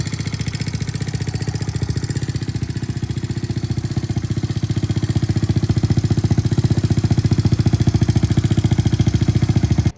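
Kawasaki KLX110L dirt bike engine fitted with a 26mm Mikuni carburetor running steadily up close, a rapid even single-cylinder putter that grows slightly louder toward the end before cutting off.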